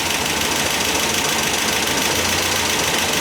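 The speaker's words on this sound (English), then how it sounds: "the engine starts really well on the button now" An MGB Roadster engine idling steadily under restoration, a loud, close, continuous rumble with an even mechanical throb and no talking.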